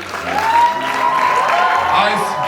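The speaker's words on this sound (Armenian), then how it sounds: "Մի հատ ծափահարությունների ներքո" An audience applauds at a school last-bell ceremony: steady, dense clapping throughout with a sustained tone riding over it.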